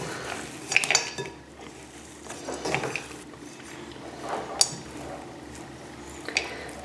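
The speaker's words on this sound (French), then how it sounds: "il faut bien mélanger le chocolat avec la pâte" Chocolate pieces being mixed into cookie dough in a bowl, with repeated clinks and scrapes of a utensil against the bowl in irregular bursts, close by and without talk.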